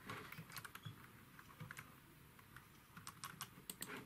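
Keys clatter on a computer keyboard, a quiet run of quick, irregular clicks, some in fast pairs and a few louder taps toward the end.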